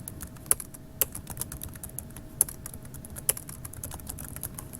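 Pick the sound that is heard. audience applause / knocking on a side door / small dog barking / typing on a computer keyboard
typing on a computer keyboard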